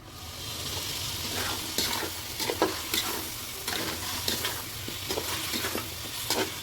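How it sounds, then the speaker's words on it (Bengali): Chicken pieces frying in oil in a pot for biryani, a steady broad sizzle with repeated scraping and stirring clatters, close by with no talking. "মাংসটা আমি এই তেলের সাথে বেশ কিছুক্ষণ ভেজে নিব।"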